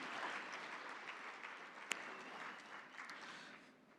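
Conference attendees at a global agricultural event's closing ceremony give a round of applause, faint and fairly distant, sustained and slowly fading, with one sharp clap standing out midway.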